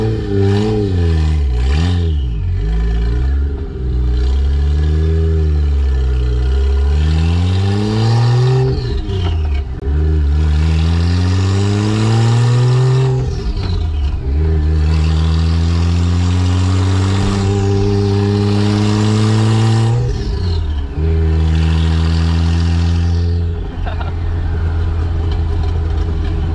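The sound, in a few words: Toyota Aristo with 1JZ-GTE engine and 5-speed being driven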